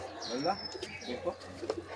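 Pigeons in a cage coo in short, close bursts while people talk over them.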